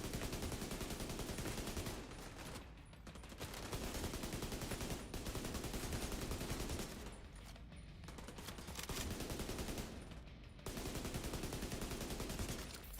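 Video game rifle gunfire in sustained bursts, rapid loud cracks running several seconds at a time, broken by brief pauses, with distant battle noise underneath.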